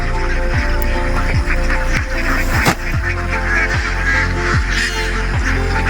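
Laying ducks on a Filipino duck farm give a loud, continuous chorus of honking quacks, with repeated sharp calls rising over a dense, busy flock that fills the whole stretch.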